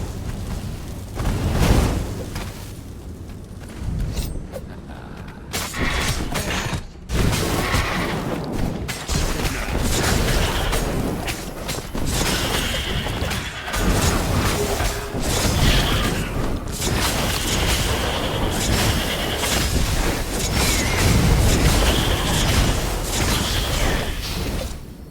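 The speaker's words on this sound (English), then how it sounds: "A cannon trap. Who doesn't love being shot at by cannons?" A cannon trap firing in a fantasy adventure video game: repeated heavy booms and blasts with mechanical clanks and whooshes, loud and dense throughout, with no pauses.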